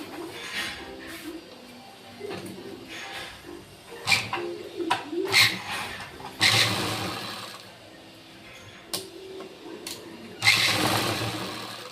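Sewing machine running a seam on an embroidered blouse, with whirring runs of stitching that start and stop, and a few clicks and louder bursts in between.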